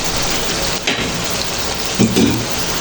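Spice paste (masala) fries in a pan with a dense, crackling sizzle, close by, as a spoon stirs it in a few brief scraping bursts. No one speaks.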